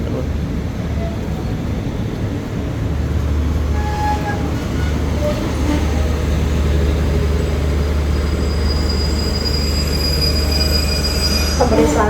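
Express train 84 at Chumphon station rolls by with loud, sustained rumble and high metallic wheel squeal, a continuous close roar of rail cars throughout.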